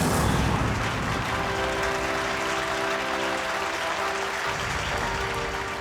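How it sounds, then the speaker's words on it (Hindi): A theatre audience at a magic show applauds loudly and continuously, a dense wash of many clapping hands that holds steady throughout, with a faint tone sounding underneath partway through. "ऑडियंस इसलिए तालियां बजा रही है"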